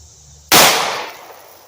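A single loud gunshot from Hornady Black ammunition fired into water jugs, one sharp close blast that cuts off a quiet scene and trails into a decaying roar lasting about a second.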